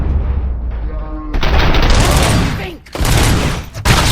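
Gunfire in RoboCop: Rogue City, a loud rapid fusillade of shots that breaks out suddenly after a short quieter passage, with brief pauses between heavy bursts and a voice speaking early on.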